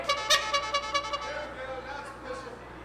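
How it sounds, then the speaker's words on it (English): Horn honked in a ring to start a Ring Wars Carolina wrestling match, a run of several short, bright, loud toots in quick succession. They fade into a thinner tone under crowd and commentary noise. "I believe the bell rang while he was honking the horn."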